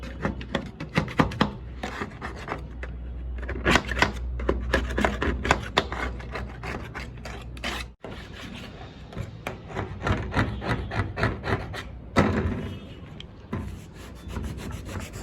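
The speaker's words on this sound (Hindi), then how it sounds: "जैसे उस साइड में आपने घिसा था ना इसको, ऐसे ही इधर भी घिसेंगे" Putty on a metal surface is sanded by hand in close, repeated rasping strokes, rhythmic scrubbing bursts with a brief pause midway, and no talking.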